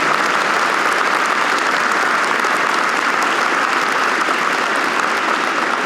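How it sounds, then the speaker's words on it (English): A large audience applauds the inductees at the Wisconsin Aviation Hall of Fame 2025 ceremony, loud dense clapping sustained evenly from start to finish. "How about one more big round of applause for all of our inductees tonight."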